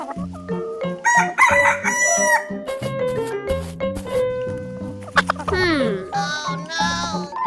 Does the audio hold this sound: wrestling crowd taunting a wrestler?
no